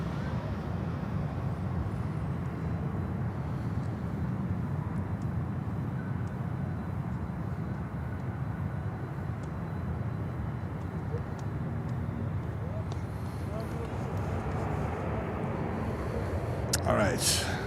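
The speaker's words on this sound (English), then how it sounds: "That is a Neo. We never see a Neo in New York." An Airbus A320neo airliner at Miami Airport gives off a continuous, moderately distant engine roar that holds steady throughout, with a brief sharper noise near the end.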